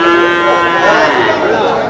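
A cow at a cattle market in Melapalayam gives one long, loud, close moo with a strong tonal drone, filling the whole moment.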